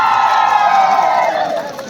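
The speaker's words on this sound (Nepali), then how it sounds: "एकचोटि तपाईको जोरदार ताली सुन्न मन लाग्यो।" An audience at a Chyabrung dance competition in Sankhuwasabha breaks into a brief burst of applause and cheering, a dense crowd roar that fades slightly toward the end.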